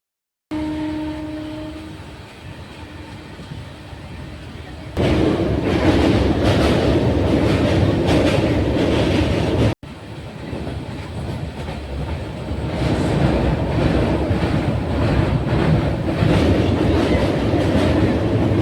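The 13153 Gour Express passenger train running on the tracks, a loud, steady rumble with rhythmic clatter of the wheels heard from on board, growing heavier partway through and continuing with only a brief break.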